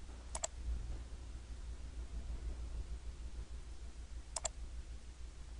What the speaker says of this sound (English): And then I'll click on Save.